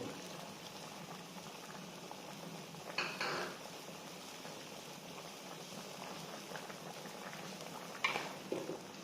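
Beef offal simmers slowly in a pot for Guangdong-style beef offal, a steady soft bubbling with a couple of brief metallic knocks from the pot or utensils, no voices.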